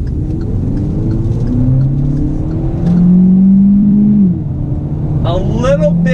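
A 2019 Hyundai Elantra Sport accelerates out of a turn, its engine note rising and climbing through the revs in a loud cabin drone before easing off.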